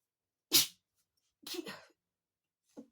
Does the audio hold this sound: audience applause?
no